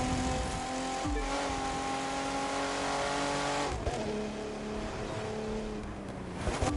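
A Mitsubishi FTO engine drones and revs in the racing game The Crew 2, a steady tonal hum with shifting pitch and brief gear-change dips, close and continuous throughout.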